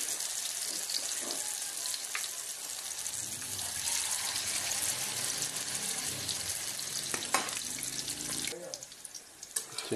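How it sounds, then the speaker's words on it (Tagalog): Ukoy fritters made with katuray flowers fry in hot oil in a pan, giving a steady, loud sizzle that runs nearly throughout, with faint clatter toward the end. "At syempre, tayo ay magpiprito na, mga boss."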